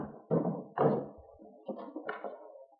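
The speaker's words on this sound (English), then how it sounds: "Liz, open the cell block door." Heavy cell block door in an old-time radio western drama, opened in a few loud knocking, clunking thumps and a rattling scrape, close and alone with no talk.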